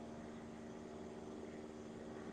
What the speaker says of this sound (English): That plane sounds like it's struggling.